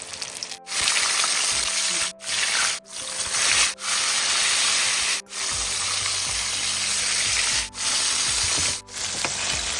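Marinated, flour-coated chicken pieces for Korean fried chicken sizzle loudly in hot oil, a dense steady crackle broken by several brief dips; no voices.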